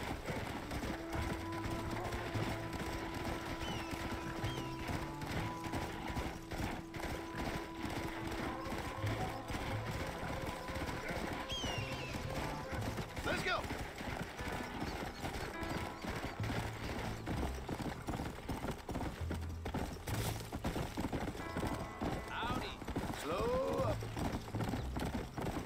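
Horse hooves clip-clop steadily in a continuous galloping rhythm while riding in Red Dead Redemption, mixed with game ambience and occasional whinnies, loud and unbroken throughout.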